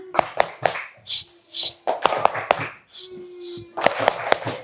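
Children in a classroom clap in short, sharp rhythmic bursts of a few claps each, with chanted voices between the groups and a teacher's voice nearby.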